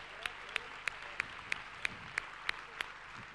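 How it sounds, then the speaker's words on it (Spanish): Applause at the end of a basketball coaching session on 3-2 match-up zone defense, heard as about nine faint, sharp claps spaced evenly and slowly over a quiet background. "por favor, un, eh, aplauso"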